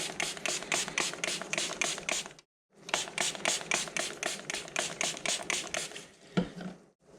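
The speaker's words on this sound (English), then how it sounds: "So I'm just going to spray the heart." Rapid, rhythmic bursts of hissing spray from repeated trigger pulls of a spray bottle onto a heart-shaped melt-and-pour soap, in two long runs split by a short pause, close and fairly loud.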